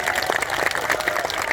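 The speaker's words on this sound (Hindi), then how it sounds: "तो जोरदार ताली बजा करके इन दोनों के आशीर्वाद" A large crowd at a Sanatan Hindu unity march claps loudly to bless a bride and groom, with a brief burst of dense, steady applause.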